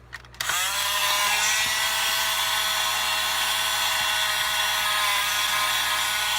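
After a couple of clicks, the small motor of an electronic toy car starts and whirs continuously at a high, steady pitch, close and fairly loud with no talking.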